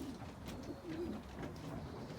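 Racing pigeons coo softly in a loft, with low, murmuring, repeated calls that are faint and close, over quiet background noise.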